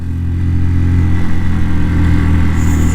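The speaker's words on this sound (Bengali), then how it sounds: "এত উপরে উঠতেছে, বাইকের পাওয়ারই ঠিক মতো পাচ্ছে না, আস্তে আস্তে যাইতে হয়।" A motorcycle engine labours at steady low revs while climbing at high altitude in Mustang, Nepal, a loud, close, continuous drone with a deep throbbing rumble and no talk.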